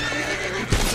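Horses in the medieval combat game Mordhau whinny loudly in a dense battle mix, with a sharp neigh rising near the end over steady hoofbeat clatter.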